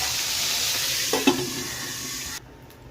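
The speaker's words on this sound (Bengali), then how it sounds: "তেল গরম হয়ে গেছে, মাছগুলো তুলে দেব।" Singi fish sizzle as they go into hot oil, a steady close hiss with a couple of sharp splutters in the middle before the sound cuts off abruptly.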